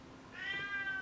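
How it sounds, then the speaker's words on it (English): A single house cat gives one short, faint meow, rising and falling, heard alone in a quiet room. "Oh, that's my cat."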